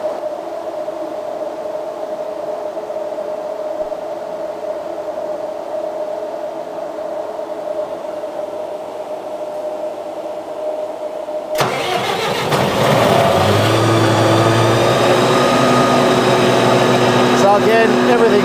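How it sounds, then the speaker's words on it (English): STG vacuum truck unit engine cranks and fires up partway through, settling into a loud steady running drone with a mid-pitched hum, following a quieter idling background. "we'll just start the unit up, make sure it's sounding how it should sound."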